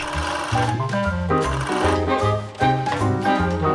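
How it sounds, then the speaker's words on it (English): A sewing machine hems a skirt using a hem foot, running in steady bursts of rapid mechanical stitching with brief pauses, close and loud. "Just fold the fabric in it and the foot does the work."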